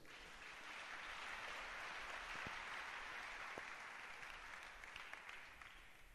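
A church congregation applauding during a sermon, a steady dense wash of clapping that holds for several seconds, moderately distant and fairly faint, with no clear talking.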